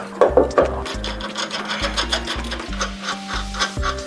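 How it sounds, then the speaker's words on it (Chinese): A bolt is tightened on a car's coilover suspension mount, giving a steady rapid ratcheting buzz in short repeated bursts, close and fairly loud with brief pauses between runs. "我先用螺丝把上面的稍微带一下"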